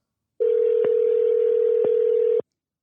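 Phone line tone during a Google Voice call connection, one steady electronic beep lasting about two seconds, loud and close with no voices.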